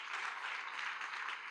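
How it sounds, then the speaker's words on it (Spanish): Church congregation applauding, a steady wash of dense clapping, faint and distant, unbroken through a brief moment. "Dele ese aplauso al Rey bendito."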